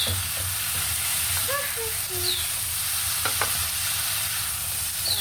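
Onion sizzles in a hot pan for a Filipino dish of moringa leaves and string beans, a steady frying hiss with a stir or two, joined by faint bird chirps and a distant clink.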